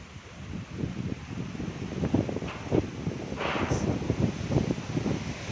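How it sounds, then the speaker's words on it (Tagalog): Outdoor wind at a candle monument in Bulacan, buffeting the microphone in continuous low rumbling gusts with soft rustling, steady and fairly loud, no talking heard. "Ganda ng hangin dito."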